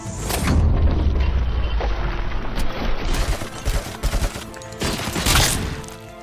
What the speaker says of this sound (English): Make me use up my machine gun.